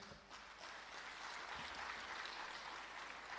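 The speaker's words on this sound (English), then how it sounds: "let us all give him a round of applause" An audience claps at an Independence Day handover ceremony for shelter houses, a faint, distant wash of steady applause from a gathered crowd.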